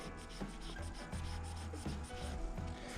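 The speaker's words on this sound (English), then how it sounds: "hit the spool shaft, get any grime off of that" Close soft rubbing and squeaky friction as a rag wipes grime off the spool shaft of a baitcast fishing reel, continuous and low with faint background hum.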